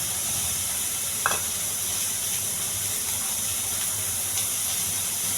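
Chickpea tempering frying in a pan gives off a steady, even sizzling hiss with one small clink partway through, continuous and close with no talking.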